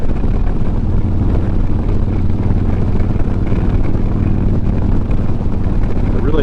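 A built 2009 Harley-Davidson Road Glide motorcycle engine drones steadily at speed, a loud low rumble mixed with rushing wind noise, held at an even level throughout.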